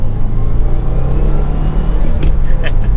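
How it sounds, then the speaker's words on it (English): A 2022 Subaru WRX accelerates with a steady, loud low engine rumble and drone that holds throughout, heard from inside the car with a brief rattle of other noise near the end. "we'll do one last little acceleration just to feel out that torque"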